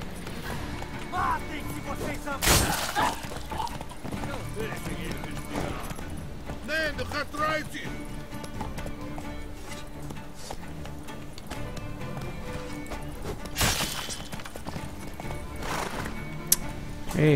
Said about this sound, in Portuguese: Ei, cavalinho.